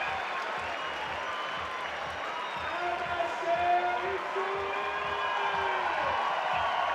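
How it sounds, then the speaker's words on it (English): Crowd cheering and applauding at a bouldering climbing World Cup final in Innsbruck, a steady wash of noise that swells a little midway, with a commentator talking over it throughout. "And the crowd go crazy."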